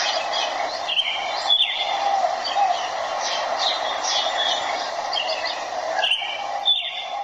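Several birds chirp and trill in short, bright bursts against a soft, steady background hiss, fairly faint and continuous throughout.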